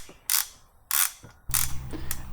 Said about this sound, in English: Here I am torquing down the 6 bolts that hold it in place.